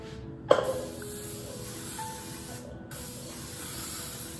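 Two short hissing bursts of cooking oil spray onto a baking pan, the first with a faint clink, over quiet room tone.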